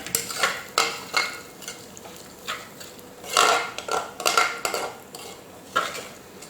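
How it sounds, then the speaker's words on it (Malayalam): Split moong dal sautéed in ghee in a pan, with repeated loud scraping and clanking of a metal spoon against the vessel in irregular strokes over a faint sizzle. "അത് ഞാൻ ആ നെയ്യിലേക്ക് ചേർത്ത് കൊടുക്കുകയാണ്. ഇനി ഇത് നന്നായിട്ടൊന്ന് വഴറ്റി കൊടുക്കുക."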